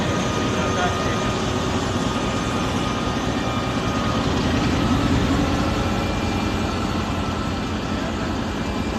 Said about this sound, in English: Train departing now from Rigasa station.